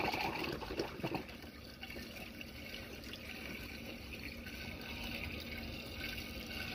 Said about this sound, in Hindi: वॉशर में पानी नहीं है, तो वॉशर में पानी डालता हूँ।